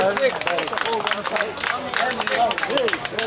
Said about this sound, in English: Gonna get a round of applause for that one?